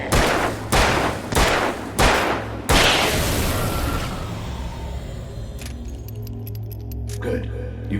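Four loud, evenly spaced gunshots in the game Alan Wake, each a hard boom over a low drone, with the last one trailing into a long decaying rumble and later some faint metallic clinks.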